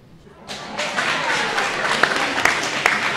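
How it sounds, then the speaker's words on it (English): An audience applauds after young speakers introduce themselves, a dense wash of clapping swelling in after a brief pause and holding steady, moderately loud and close, with a few sharper individual claps standing out. "Let's give them all a big round of applause."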